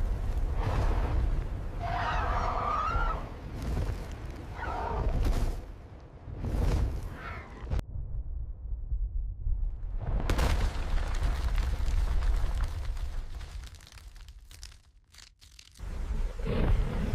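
Booming eruption rumbles and explosive bursts suggest a volcanic eruption, heavy low blasts broken by a short silent gap, then a rushing roar that swells and fades.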